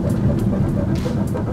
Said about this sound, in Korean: 브레이크를 밟는 순간부터 소음이 발생하기 시작합니다.